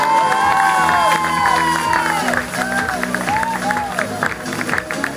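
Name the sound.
audience applauding at triathlon podium ceremony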